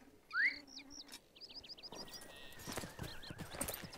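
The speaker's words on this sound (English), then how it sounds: "this is probably not the best horse to ride in these parts" Video-game horse being ridden, with a sharp whinny near the start, then steady clip-clopping hooves over light birdsong in the background, moderately quiet.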